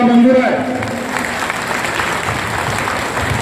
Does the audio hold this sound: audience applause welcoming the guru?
yes